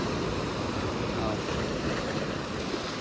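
Steady roar of ocean surf washing in, broadband and continuous, mixed with wind noise, no speech.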